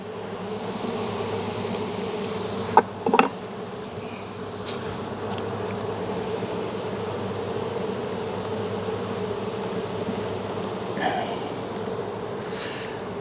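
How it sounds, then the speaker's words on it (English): Honey bees drone steadily around an open hive during a late-summer inspection, a continuous close buzzing with a few brief knocks and clicks of handling, and no voices. "There's a bee with pollen. Nice orange pollen."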